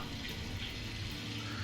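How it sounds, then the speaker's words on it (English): Water runs steadily through a wash plant in Gold Rush: The Game, a soft continuous splashing hiss like a filling tap, faint and unchanging. "There's water coming through there, that's good."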